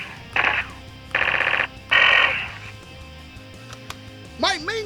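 Nerf blaster sound module plays a series of electronic effects: three warbling buzzy bursts in quick succession, then a quieter pause and a short swooping laser-like pew at the end, close and fairly loud.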